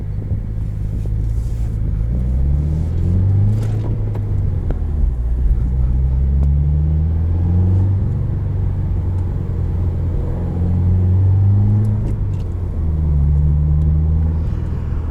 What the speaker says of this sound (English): the WRX uses a turbocharged flat 4 motor known as the boxer motor